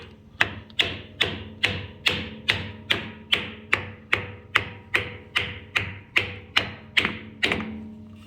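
Sixteen evenly spaced wooden taps drive a driveshaft yoke into place on a 1966 Ford Bronco, struck through a block of wood, each hit sharp and close with a short ringing decay, steady in rhythm and loudness throughout.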